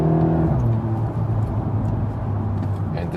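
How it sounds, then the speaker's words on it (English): A Volkswagen T-Roc R with a 7-speed DSG and optional Akrapovic exhaust drones steadily from inside while driving, its engine note falling and then holding as it pulls along. "this Akrapovic optional exhaust, definitely also giving us some sounds note"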